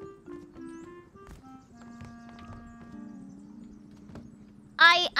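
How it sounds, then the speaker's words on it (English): A horse in a video game, with soft clip-clop hooves and tonal game music through most of it, then a loud horse neigh near the end. "Or is that really my horse?"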